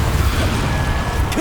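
A Confringo fire spell from Hogwarts Legacy blasts with a loud, booming burst and crackling rumble that fills the short moment, a heavy magical explosion with a whooshing tail.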